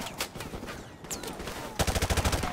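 Gunfire in Modern Warfare Remastered, scattered single shots at first, then a loud burst of rapid automatic fire near the end.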